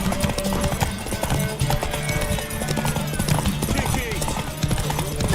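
Horse hooves clip-clop steadily at a walking pace in The Witcher 3: Wild Hunt, mixed with game music and sound effects, with a voice talking over them.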